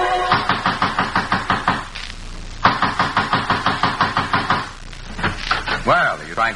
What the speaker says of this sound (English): trying to break down the door?